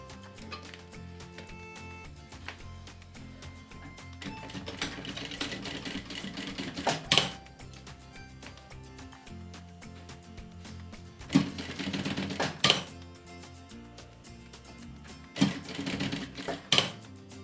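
A sewing machine stitches piping onto a preschool backpack, steady fast clattering runs broken by several louder bursts and brief pauses.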